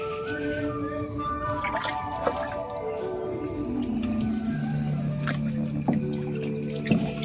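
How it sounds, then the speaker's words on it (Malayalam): Wet cow dung mixed with pulse flour being stirred by hand, giving soft squelching and dripping sounds that run continuously at close range, with faint tonal background music. "ഇങ്ങനെ നന്നായിട്ട് ഇളക്കി മിക്സ് ചെയ്യാം"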